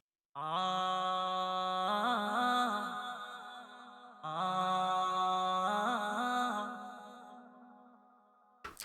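Two long, airy sung phrases with a hazy, shimmering effect, each swelling and fading, followed by a brief silence and a short click at the end.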